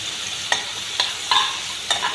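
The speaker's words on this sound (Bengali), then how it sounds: "এখন আমি পেঁয়াজ কুচি রসুন কুচি আর আদা কুচি দিয়া ভালা করিয়া বাজি লইম" Chopped onion, garlic and ginger fry in hot mustard oil with a steady, bright sizzle up close, punctuated by four spaced scrapes and stirs of a utensil in the pan.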